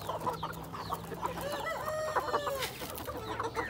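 Chickens cluck and squawk busily close by as they are fed, a dense chorus of overlapping calls with one longer crow-like cry in the middle.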